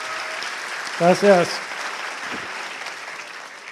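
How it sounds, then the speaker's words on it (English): An audience bursts into steady applause to welcome a speaker at the Converge Globant event in Medellín, with a brief voice speaking over the clapping. "Un aplauso grande, por favor."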